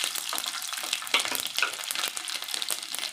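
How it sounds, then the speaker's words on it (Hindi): Garlic, bay leaves and cumin seeds sizzle and crackle steadily in hot oil for a tempering, a dense continuous frying hiss with scattered pops, close and alone without talk. "ये लहसुन का बघार दिया है"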